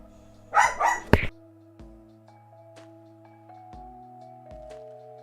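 A dog barks indoors, two quick close barks followed by a sharp third, with a steady tonal hum and faint clicks continuing underneath.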